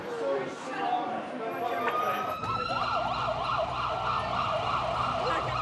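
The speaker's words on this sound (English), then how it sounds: "A busy frontline ambulance is delivering a special patient for Steph." A busy frontline ambulance's siren starts partway through and wails in a fast, regular up-and-down pattern, loud and close over road and engine noise.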